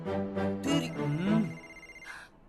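A mobile phone rings with a melodic tone in a dramatic Hindi film scene, and a voice briefly overlaps the ringing before it fades out.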